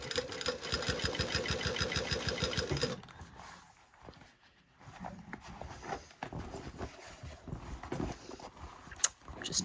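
Sewing machine stitching the body and collar of a coat, a fast steady mechanical chatter for about three seconds that then stops, leaving quieter handling sounds.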